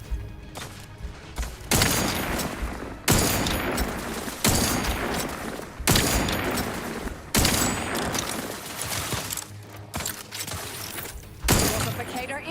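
Repeated bursts of automatic gunfire in the Outer Worlds 2 video game, loud and close, coming in about seven separate volleys of a second or so each with short gaps between, over a low game soundtrack hum.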